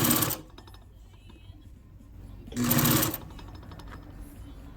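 A sewing machine runs a single line of stitching down the center of folded double welt trim in a workshop, two short loud bursts of motor whir separated by a quiet pause.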